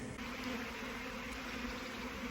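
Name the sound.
swarm of bees in a back garden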